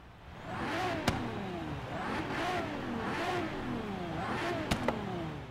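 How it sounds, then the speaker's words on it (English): A Regalia car in Forza Horizon 3, upgraded with race weight reduction, revs up again and again in steady rising sweeps, a loud close engine note climbing and falling about every second, with a couple of sharp clicks mixed in. "Just revs a lot quicker."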